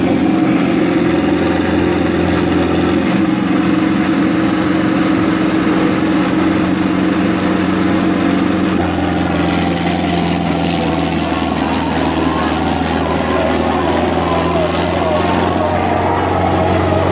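A tractor engine, a Sonalika in a village tochan pulling contest in Kasni, Jhajjar, drones loud and steady under heavy strain, a continuous close roar with background noise throughout.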